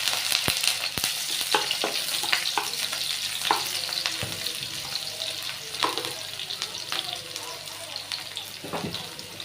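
Cabbage frying in a pan with dried red chilli and chopped onion produces a steady close sizzle, broken by sharp scraping and clinking strokes of a spatula stirring the vegetables.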